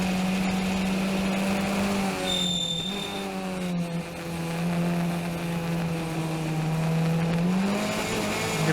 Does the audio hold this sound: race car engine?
yes